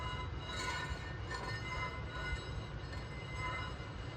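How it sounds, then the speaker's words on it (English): Brake pad scrapes against a Duralast Gold rotor turned by hand, a continuous gritty rubbing noise at low level with faint pulses as the rotor turns, no voice. "there's definitely one noise where the brake pad is rubbing on that there"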